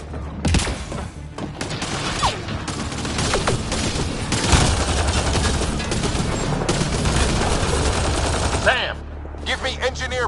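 Rapid bursts of enemy gunfire and automatic weapon fire crackle in a Mass Effect Andromeda firefight, loud and nearly continuous, with booming impacts and brief pauses near the end.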